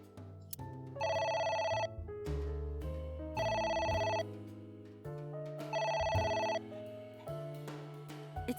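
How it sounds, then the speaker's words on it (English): A phone rings in the video game AI: The Somnium Files, repeating bursts of a trilling electronic ring over a steady backing tune, three rings spaced a couple of seconds apart. "It won't stop ringing."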